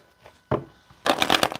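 Tarot cards are shuffled in quick riffling bursts, a short flutter followed by a louder, longer rapid ruffle, close by.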